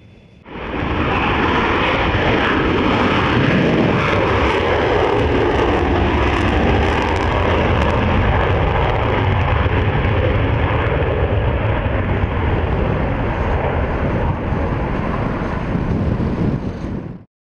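A MiG-31 military jet takes off, a loud, steady roar that swells in and holds for over fifteen seconds with wind buffeting, no voices.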